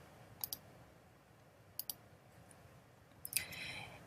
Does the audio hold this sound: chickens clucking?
no